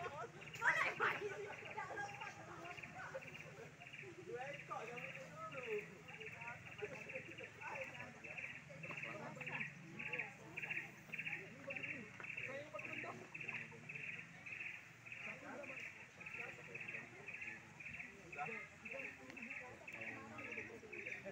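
Birds chirp steadily at a lake, a dense rhythmic twittering that runs throughout at moderate distance while people talk nearby.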